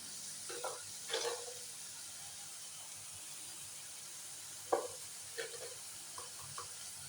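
Onions for chicken curry deep fry in oil under a faint, even sizzle, with a few soft utensil scrapes and taps against the pan.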